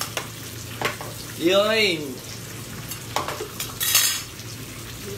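Bánh khọt, Vietnamese mini pancakes with shrimp, fry in a pan with a steady close sizzle, broken by scraping and stirring clinks. A voice calls out briefly over the frying.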